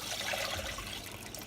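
Water pours steadily into a new cooking pot on a stove, a continuous splashing rush that stays loud and close with no talking over it.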